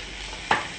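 Potatoes and fenugreek leaves for aloo methi are stirred in a frying pan, giving a single quick scrape over a soft, steady sizzle.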